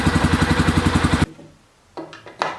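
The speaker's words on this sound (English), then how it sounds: "for right now, it's idling pretty good" Small engine chugging at a steady, even idle with rapid rhythmic putters for about a second, then it cuts off, followed by a couple of faint knocks.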